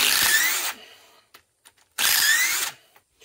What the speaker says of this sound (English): we're gonna take off all these bolts